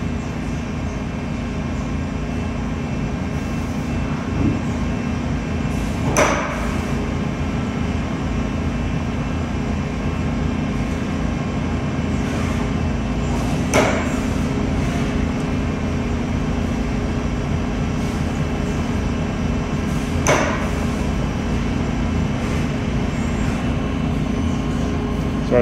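DMG Mori NLX 2000SY CNC lathe with its sub spindle running, a steady close machine drone and whir held throughout, broken by three brief sharp clicks several seconds apart.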